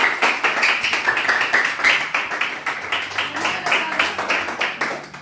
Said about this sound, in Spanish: aplaudémosle, un aplauso.